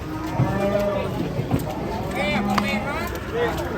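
Cattle, including Indian-type cows, moo while being unloaded from a truck, a couple of drawn-out calls close by under excited chatter from onlookers.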